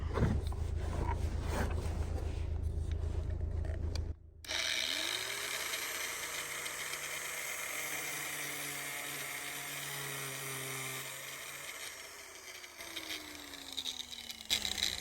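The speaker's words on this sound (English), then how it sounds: "So we've got our angle grinder here, got it plugged up to the Maverick." An angle grinder plugged into a Ford Maverick's power outlet cuts through metal. A steady, high, screeching grind runs for about ten seconds after a short burst of other noise, close and loud, with no talking.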